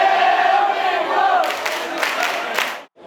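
Patrons in a crowded Seoul pub watching a Korea-Brazil football match roar wildly after a goal, loud massed shouting and cheering that swells with bursts of screams before dropping away.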